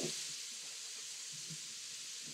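Ginger and vegetables sautéing in a crock pot for kitchari, a soft steady sizzle and hiss with faint stirring knocks, quiet and close, no talking.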